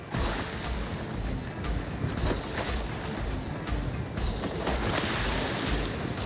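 Ocean waves wash steadily around a fishing boat out after striped bass, a loud continuous rush of water with wind buffeting the microphone and no voices.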